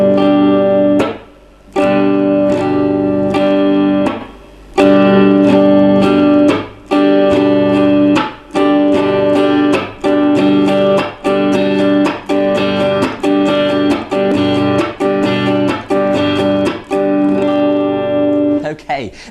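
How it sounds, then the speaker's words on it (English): Acoustic-sounding guitar strummed in a steady down-up-chop-up pattern, sustained chords broken regularly by muted percussive chops, loud and close with a short pause early on. "So when we put that into the strumming pattern, we're going to go down, up, chop, and then up again."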